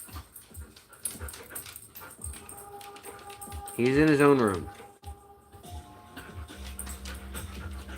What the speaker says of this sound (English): I was playing with the dogs.